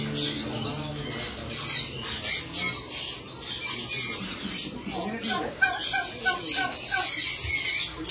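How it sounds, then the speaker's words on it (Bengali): A bird squawks repeatedly in harsh, close bursts, loud and irregular, while people talk over and between the calls. "ওই পাখি"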